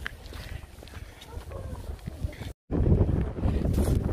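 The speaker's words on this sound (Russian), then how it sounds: "Ой, какой ветер, прям не рассказать." Strong gusts buffet the microphone outdoors, a heavy low roar that builds after a brief dropout and stays loud, with faint talk under the earlier part.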